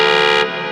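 A synth lead patch built in the Vital synthesizer for a track: a loud, buzzy, harmonically dense sustained note that holds steady, then loses its brightest top end midway and continues slightly quieter.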